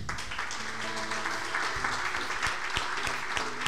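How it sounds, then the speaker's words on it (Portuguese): A church congregation gives a round of applause, steady moderate clapping with a low hum and scattered sharper claps, heard from a middle distance. "Vamos dar uma salva de palmas"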